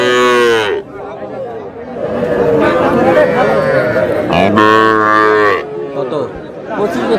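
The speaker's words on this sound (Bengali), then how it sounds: "এত বাছুর।" Young bull calves low loudly at a busy Dhaka cattle market, with two long moos at the start and near the end, and people talking through the middle and in the background.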